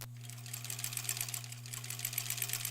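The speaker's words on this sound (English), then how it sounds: "sewing machine embroidery looks great" A sewing machine runs steadily, its rapid stitching chatter layered over a constant motor hum, close and continuous with no talking.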